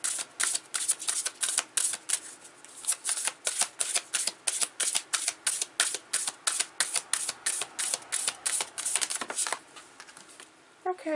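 Tarot cards are shuffled and drawn from a deck for a Celtic Cross spread, making a long run of rapid, evenly spaced riffling snaps close to the listener, briefly pausing near the end.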